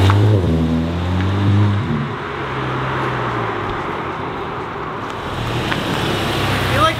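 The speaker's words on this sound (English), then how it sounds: "I'll do a couple flybys in front of us and we see how it sounds" Volkswagen GTI fitted with an AWE Track exhaust passes by in sport mode, a steady low engine drone rising into a faint revving note toward the end, with wind and road noise around it and no talk.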